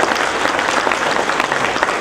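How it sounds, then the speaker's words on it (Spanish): Audience applause for a doctor after a talk on climate change and coffee rust, a loud, close, dense burst of clapping that holds steady throughout. "Fuerte aplauso para la doctora."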